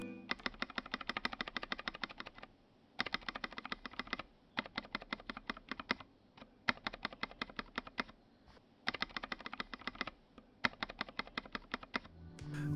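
Typing on an Idobao ID80 Crystal keyboard with Gateron Black Ink V2 switches and PE foam under the spacebar keycap gives soft, muffled, rapid keystroke clatter in several short runs with brief pauses between them, close and fairly quiet.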